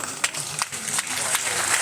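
An audience at a farmers' fair inauguration at a university claps in dense, steady applause, with a few sharper claps standing out and no one talking.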